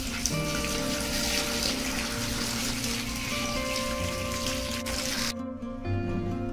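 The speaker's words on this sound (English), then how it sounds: "Now we are going to pour some water on it and let it stay overnight." Water poured from above onto torn bits of paper in a bucket, a steady splashing rush that carries on for about five seconds and then stops suddenly, leaving a faint hum.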